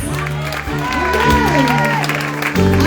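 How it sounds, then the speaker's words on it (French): Church congregation applauding during an evening service, a dense wash of clapping and cheering mixed with sustained keyboard or organ music and some voices. "Et un applaudissement pour vous tous"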